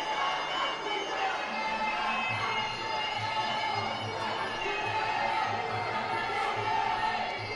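Fans at a Muay Thai bout keep up a steady crowd murmur with scattered shouts, under a continuous hum and a repeating low thud through the arena.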